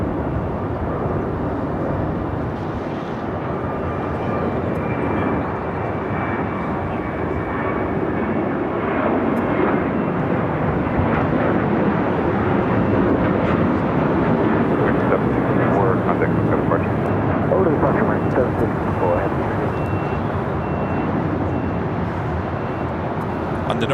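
An airliner takes off at Los Angeles International Airport, its jet engines making a loud, steady broadband roar that holds for the whole stretch, with a muffled voice faintly underneath.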